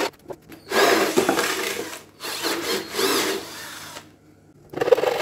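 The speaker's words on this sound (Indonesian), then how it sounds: "lalu bagian tepinya saya gergaji" The edge of a wooden drill stand base is cut with a hand saw. Close, rasping strokes come in bursts with short pauses between them.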